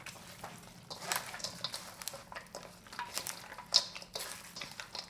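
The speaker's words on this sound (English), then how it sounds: "I'm going to mix this all together with this spicy mixture of hot pepper flakes and garlic" Chicken and fresh vegetables tossed by hand with hot pepper flakes and garlic for spicy chicken soup, giving soft wet squelching and rustling in irregular bursts, close and moderately quiet, with one sharp clink.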